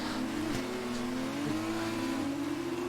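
An F2 race car in the F1 2019 video game drones under steady engine power, its pitch climbing slowly, with brief gear-shift blips and a hint of tyre noise.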